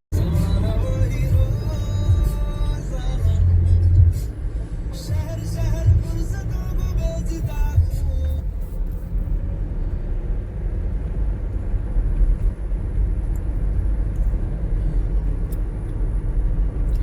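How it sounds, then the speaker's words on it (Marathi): Road traffic crawls along a potholed road, a low steady engine rumble with passing vehicles and faint rattles, heavier in the first half and settling into a constant drone. "ते ट्रॅफिक झालंय जबरदस्त खड्डे आहेत गाड्या फसतायत आहेत"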